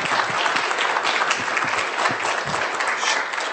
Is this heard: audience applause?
yes